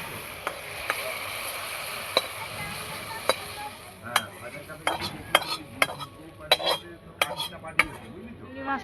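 Fried prawns lifted from a frying pan: oil sizzles quietly underneath while sharp metal clinks and scrapes of a utensil against the pan ring out, denser and louder toward the end.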